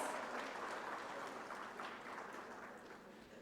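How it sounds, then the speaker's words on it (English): Steady applause from the audience at an educators' summit and school merit awards event, a dense wash of clapping that fades slightly toward the end. "A round of applause, ladies and gentlemen"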